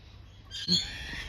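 Magpies call in the city, a single harsh squawking burst that rises briefly over faint background hiss, fairly close.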